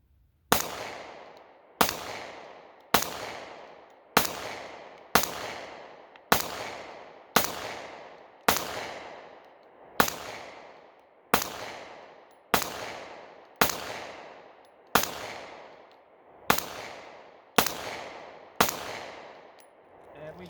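Sixteen evenly spaced shots from a Smith & Wesson Equalizer pistol during a 15-round magazine reliability test, each a sharp, loud crack with a decaying tail, fired at a steady pace of roughly one per second.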